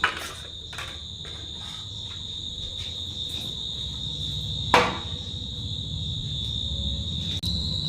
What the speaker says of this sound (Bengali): বাইরে কেমন ঝিঝি পোকা ডাকছে দেখো।